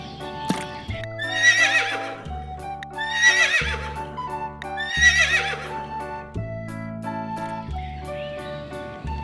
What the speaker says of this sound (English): Farm animal horse.